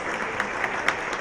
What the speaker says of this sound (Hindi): तालियां के लिए प्लीज